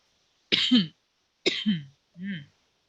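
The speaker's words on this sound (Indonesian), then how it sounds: "Batuk-batuk nih" Three dry coughs in a row, close and fairly loud, with short pauses between them, the last one softer.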